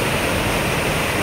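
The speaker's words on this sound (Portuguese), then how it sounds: "vertando, transbordando, sangrando. Eita! Olha a quantidade de água" Heavy floodwater overflows the spillway of a reservoir dam after a day of strong rain, a loud, constant roar of rushing water filling the whole space with no voices.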